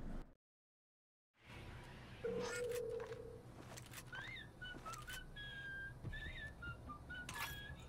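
A video game character whistles a short, wavering tune after a brief silence, moderately near, with some quiet background game ambience.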